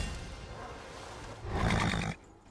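Horse in the video game Darksiders letting out a loud, brief neigh that swells near the end and cuts off, over faint background game sound.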